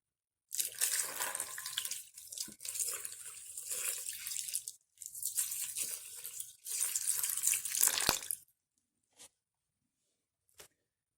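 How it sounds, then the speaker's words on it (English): Water poured in three bursts of splashing and gushing, nearby and fairly loud, separated by short pauses and followed by a few faint drips. "he poured lots of water over it"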